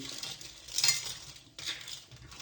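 Mussels tipped into a paella pan during cooking, giving soft clinks and clatters of shells against the pan over a low sizzle, with two brief louder bursts of rattling.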